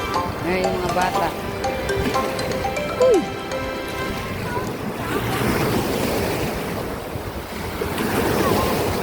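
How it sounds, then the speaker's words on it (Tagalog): Strong ocean waves and current at a beach: rushing surf and a roar of wind on the microphone, with people talking and children's voices over it and the waves swelling louder toward the end. "Lumalakas yung agos. Yung alon."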